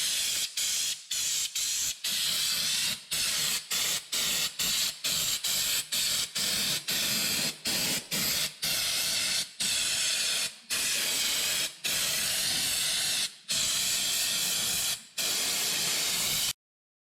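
Fluid Film undercoating sprayed onto the underside of a vehicle in repeated close, loud hissing bursts separated by brief pauses, with no talking.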